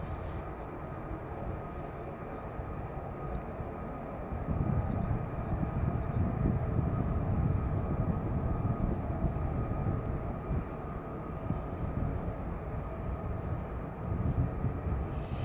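Military jets such as F-35s rolling along the runway at RAF Lakenheath at night, a distant, sustained low engine roar that swells midway and then eases, with people talking nearby.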